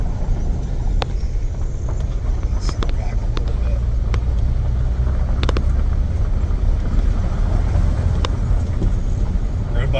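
A car with a Velocirax 7 bike rack and bike mounted rolls along a gravel road, making a constant low rumble with scattered crunches and clicks, plus wind buffeting and a voice talking over it.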